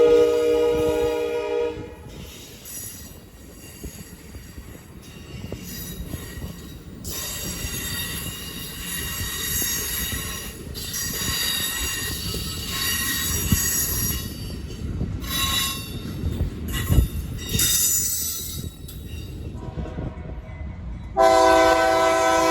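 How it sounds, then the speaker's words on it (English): Amtrak 352, a full passenger train running from Chicago toward Pontiac, Michigan, rumbles through Porter Junction with a steady roar, squealing wheels and a horn blast near the end. "Our first Amtrak to arrive at Porter Junction was Amtrak 352, which comes out of Chicago, Illinois and terminates in Pontiac, Michigan"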